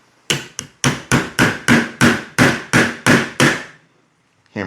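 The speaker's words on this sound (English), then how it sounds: "we can take our mallet or hammer," A mallet hammers a locking block into a pistol frame while fitting an extended slide lock, giving about eleven sharp, evenly spaced blows that ring briefly, close and loud, with no talking.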